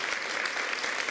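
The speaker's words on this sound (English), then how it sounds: "A round of applause." Steady applause from a graduation ceremony audience at INSEAD Fontainebleau, a short burst of dense, even clapping with no voices above it.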